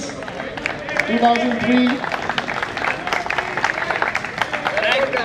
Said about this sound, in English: a big round of applause for the seniors